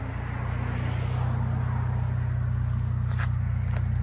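Kia Stinger GT with a 3.3L V6 twin-turbo engine idling, its exhaust giving a steady low rumble throughout, with faint scraping and footstep-like sounds nearby.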